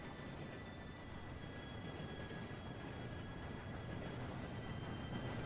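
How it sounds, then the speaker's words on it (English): An approaching train in the game Red Dead Redemption 2, a steady loud rumbling roar of rail cars with faint high tonal whine, continuous and unbroken, no talk. "Train should be here any minute now."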